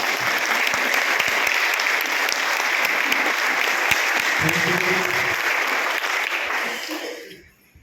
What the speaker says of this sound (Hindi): एक बार इनका सम्मान हम लोग तालियों से करेंगे